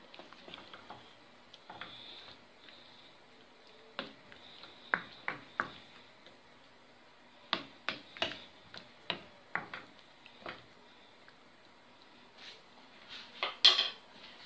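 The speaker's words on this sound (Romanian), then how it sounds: "Amestecăm." A spoon stirs tomato sauce with pulp in a pot, giving a quiet background with irregular metallic clinks and scrapes that bunch together near the end.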